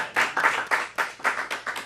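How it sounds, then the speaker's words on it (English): A studio audience on a television show claps in a distinct rhythmic pattern, with about seven close, fairly loud bursts in quick succession and no talking. "let's give him a round of applause"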